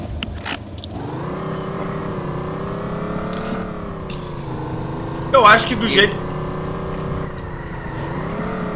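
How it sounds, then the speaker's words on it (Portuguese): A car engine with worn spark plugs revs close by in a rising and falling drone, while people talk over it and a brief burst of noise cuts through near the middle. "O carro tá parecendo um GTR com V8"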